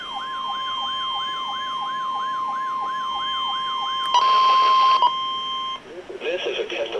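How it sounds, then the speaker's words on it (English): A NOAA weather radio warning alarm sounds during an Emergency Alert System weekly test. A loud warbling siren tone rises and falls evenly, then a steady tone holds while harsh digital data bursts cut in, with speech-like broadcast sound at the end. "This is a test of the emergency alert system and NOAA weather radio's warning alarm."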